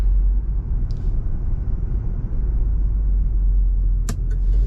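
A 1975 Oldsmobile Cutlass S rumbles low and steady from inside the cabin as it slows toward a red light, with two brief clicks or knocks over the engine drone.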